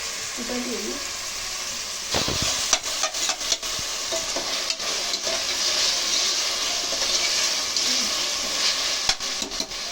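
Ginger garlic paste fries for biryani in a pan, producing a dense, loud, continuous sizzle close up, with occasional stirring knocks.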